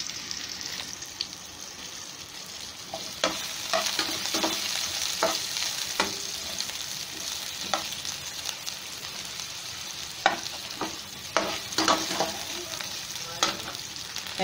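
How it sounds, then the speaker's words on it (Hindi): Yam (jimikand) pieces fry in a little oil, giving a steady close sizzle with irregular spatula scrapes and clicks throughout. "कम से कम तेल में ही इसको फ्राई करना है"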